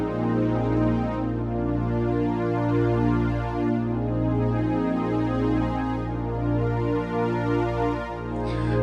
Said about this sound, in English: This is one of the Jupiter 8 pad sounds, warm Jupiter analog strings.